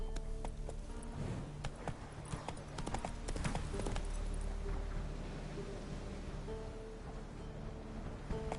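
Horse hooves clip-clopping at a steady gallop in the video game Witcher 3, a rhythmic patter running throughout under a low ambient game soundtrack.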